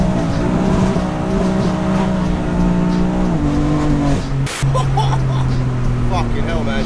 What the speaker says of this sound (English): No doubt many spinning tyres.